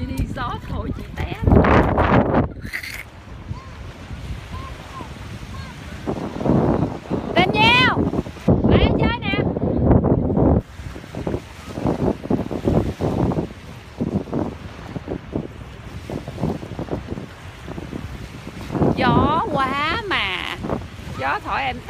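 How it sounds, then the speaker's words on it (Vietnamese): Wind blowing at Alameda beach, a continuous rumbling gust noise buffeting the microphone over the whole stretch, with an adult and children talking and calling throughout. "Gió thổi đó."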